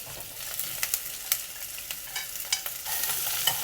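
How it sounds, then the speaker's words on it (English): Chopped yellow onions, 230 grams, frying in melted butter in a pot for a Japanese chicken and daikon stew: a continuous close sizzle with sharp crackles and occasional stirring clicks, no talk. "You just need to fry them a little bit just to get a beautiful fragrance coming out from the onions."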